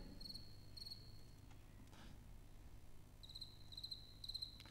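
Nocturnal song of a field cricket from a playback recording: short, rhythmic high trills, a pair early on, a few soft rustles in the middle, then a longer run of regular chirps at the end, fairly quiet over low background hum.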